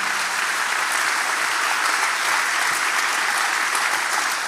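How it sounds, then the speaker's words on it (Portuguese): A church congregation applauds steadily, a dense, loud wash of many hands clapping together that holds at an even level without speech. "você pode aplaudir ela"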